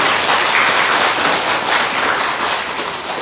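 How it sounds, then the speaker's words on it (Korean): Dense, loud applause from a Buddhist temple congregation at a spring-day dharma service, steady clapping throughout that tapers slightly at the end. "감사의 박수 한번 부탁드리겠습니다"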